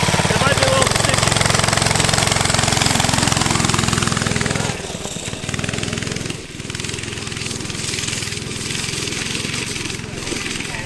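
An old go-kart engine running with a sticky throttle, a loud, close, rattling drone that holds steady, dips as the revs drop and settles into a rougher idle.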